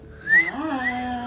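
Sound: person whistling

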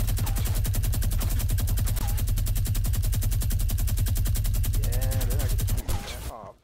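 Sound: gunfire from a video game

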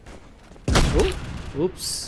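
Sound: shotgun fire in the video game King Of Warfare FPS

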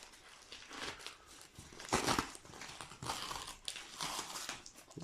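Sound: unwrapping a plant from its packaging

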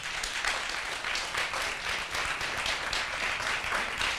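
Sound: audience applause at TEDx talk

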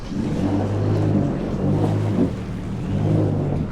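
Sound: Yamaha FX jet ski reversing off a pier

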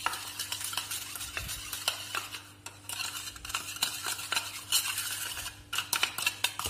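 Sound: stirring a homemade teeth-whitening mixture with a spoon

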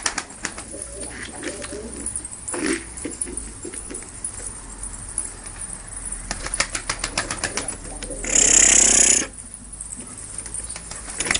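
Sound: pigeons cooing

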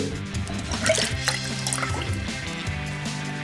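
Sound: glass lifted out of water

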